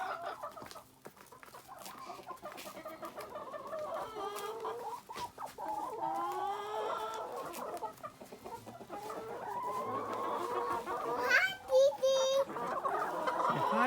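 A flock of backyard hens clucks and squawks nearby, continuous overlapping calls with a couple of sharper, louder cackles near the end; no talking over them.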